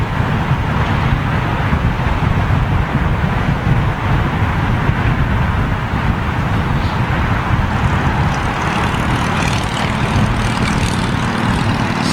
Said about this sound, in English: I think that's the Qantas Dreamliner just tucked in there behind the BEA sheds.